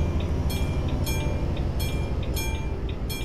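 A train passes somewhere nearby in Euro Truck Simulator 2, a steady rumbling roll with regular metallic clicks of wheels over rail joints, constant and fairly loud with no voices.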